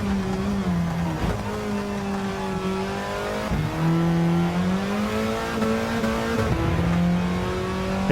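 A racing car's engine in Gran Turismo 7 howls at high revs through a lap, pitch climbing through the gears with sharp dips at each shift, loud, steady and close, with no talking.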